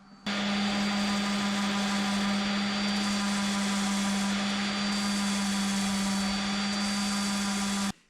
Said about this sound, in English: use the hand sander and just do like a long bevel and kind of round it in